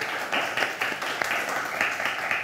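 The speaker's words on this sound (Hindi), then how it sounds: "जोरदार ताली आप लोगों के लिए" A studio audience claps for game show contestants, a brief, fairly even burst of applause from a modest group, moderately close and without speech over it.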